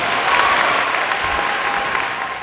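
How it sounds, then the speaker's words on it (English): A school audience in a gym applauds a guest speaker with steady, dense clapping that holds at full strength for the whole stretch. "Please give a big round of applause for Mr. Cadet."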